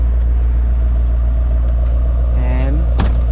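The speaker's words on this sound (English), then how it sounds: "when you're standing back here, you hear that exhaust go" A Mercedes-AMG E63S super-sedan idles behind its open trunk, a loud, steady, deep exhaust rumble throughout, with a faint rising whine and a short sharp click near the end.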